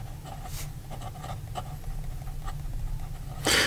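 Fountain pen nib of a Visconti Millionaire scratching across paper while written upside down, a soft continuous close scraping with faint stroke accents over steady low hum, then a louder burst of rustle at the very end.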